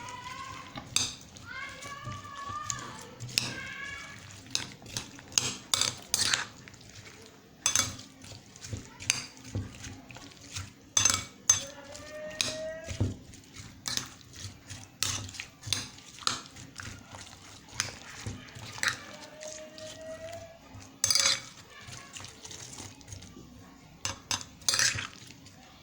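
Fruit chaat is stirred with black pepper in a bowl, giving irregular clinks and scrapes of a utensil against the dish, some sharp and close, while voices and children's sounds carry on faintly in the background.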